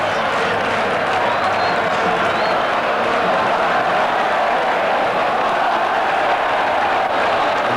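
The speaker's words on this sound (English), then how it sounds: "the Celta fans are ready to stand and applaud their team" Celta Vigo football fans applauding and cheering in the stadium at a 1988-89 Primera División match against Real Madrid, a steady, dense wash of crowd noise with clapping filling the whole stretch, distant and continuous.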